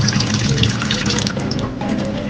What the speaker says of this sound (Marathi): ते एकदा त्यांना आपण व्यवस्थित पाण्याने धुवून